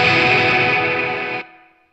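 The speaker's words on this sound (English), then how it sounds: "the gate is ruining that reverb" A distorted, reverberant guitar chord from a ToneX One amp modeler rings out and its reverb is abruptly chopped off by a noise gate, leaving only a faint, brief tail before silence.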